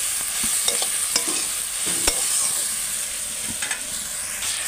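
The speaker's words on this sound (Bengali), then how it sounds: "শাকটা আমার ভালো করে শুকনো শুকনো করে একদম কষা হয়ে গেছে" Spinach and prawns stir-fry in a hot pan, with a continuous bright sizzle and repeated sharp scrapes and clicks as a spatula turns the greens, all close and fairly loud with no voices.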